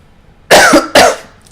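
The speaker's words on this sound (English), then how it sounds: "I really wish I knew why I was coughing." Two sharp, loud coughs in quick succession from someone nearby, the second following about half a second after the first.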